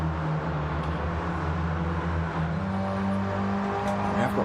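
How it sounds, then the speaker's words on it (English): Cars lapping during qualifying in a sim racing game at Sardegna, with a continuous droning engine note and tyres squealing under the drone; a commentator talks over it. "Hear these tyres squealing all over the place."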